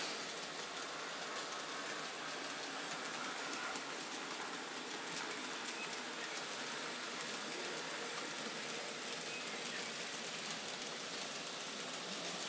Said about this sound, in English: I'm going to take a train around and see if it flies.